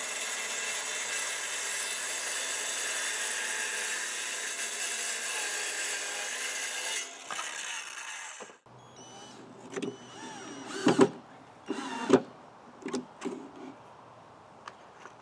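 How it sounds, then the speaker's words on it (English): A power tool cuts up siding for a lawnmower trailer, a steady loud buzzing whine for several seconds that stops abruptly, followed by scattered clatter and knocks as pieces are handled. "Now I'm just cutting up the siding."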